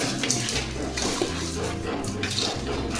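Water pours steadily into a pot while a Mangalore-style stingray fish curry is cooked, a continuous splashing gush lasting the whole moment, close and moderately loud.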